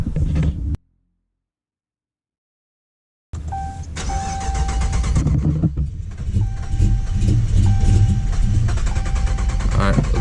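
Car engine running on E85 fuel cranks and nearly catches but fails to start, a loud starter churn that cuts out, then resumes after a silent gap with rough, sputtering turnover.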